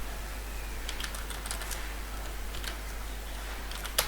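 Computer keyboard typing code for a Flutter app, soft scattered key clicks in short irregular bursts over a steady low hum, faint and close, ending with a sharper tap.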